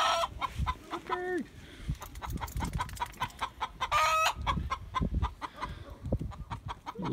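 Chickens cluck and squawk around a backyard chicken coop, a busy run of repeated calls with a few louder drawn-out squawks, fairly close, with faint human voice underneath.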